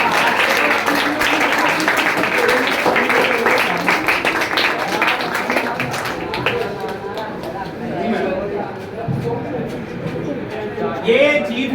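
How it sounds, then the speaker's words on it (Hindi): Sustained applause from an audience at a writing competition at Balsan Science Academy, dense and loud throughout, with voices mixed in and a few bird-like chirps. "आप जोरदार तालियां लगाएंगे जी"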